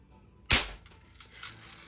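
A Crosman 760 Pumpmaster pump air rifle fires a single sharp, close crack, followed by a brief faint clatter and quiet handling noise.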